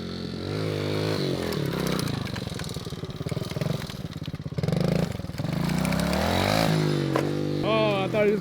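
A Yamaha YZ125 two-stroke dirt bike fitted with an FMF slip-on exhaust revs hard and loud, its ringing engine note climbing and falling through throttle blips and a sustained high wail, close by, with brief talk.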